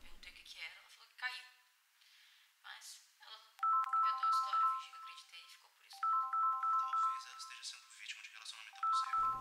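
Phone ringtone for an incoming call plays as a loud repeating electronic melody in several bursts, after a stretch of conversational talk.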